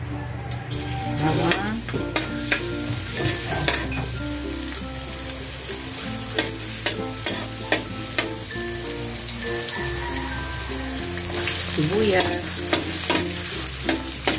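Oil sizzles and fries steadily in a home kitchen pan, a close, continuous crackle with occasional utensil stirring scrapes and clicks throughout, with no talking.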